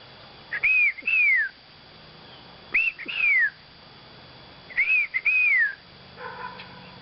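A person whistles thin, rising-and-falling chirps in pairs, three times with pauses between, imitating baby bird calls against faint outdoor background.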